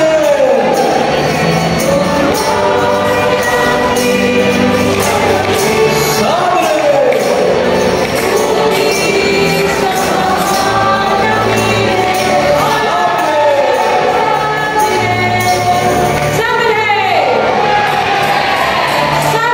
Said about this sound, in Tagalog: Sinasayaw sa saliw ng masasayang awit at sigaw na sa Birhen.